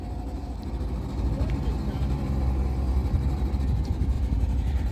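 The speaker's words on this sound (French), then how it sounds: "Un petit moteur quand même" A small outboard motor drives a wooden boat across Lake Titicaca, a steady low drone that rumbles close and constant, with other boats passing nearby.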